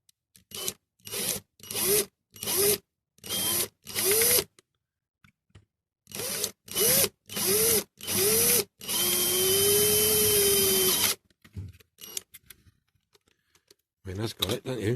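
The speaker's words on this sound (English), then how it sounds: "Let's get this drilled out." A power drill drills out the rivets of a 1961–1964 Dinky Toys Volvo 122S diecast model, with repeated short whirring bursts in a quick rhythm, then a longer sustained drilling run, loud and close, with scraping between.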